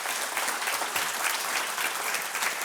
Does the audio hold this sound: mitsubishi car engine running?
no